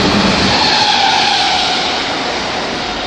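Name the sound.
Merseyrail train passing, recorded indoors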